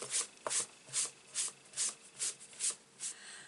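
A dry Swiffer cloth wipes loose bits off a craft cutting mat in about nine quick, evenly spaced rubbing strokes, close and fairly soft, with no talking.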